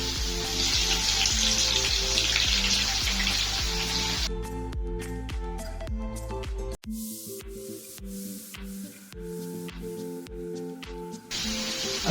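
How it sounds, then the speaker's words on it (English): Chopped onions hit hot oil in a pan and set off a loud, steady sizzle. It carries on without a break, thins out a little partway through, and no one speaks over it. "We're going to go in with the onions that we want to fry."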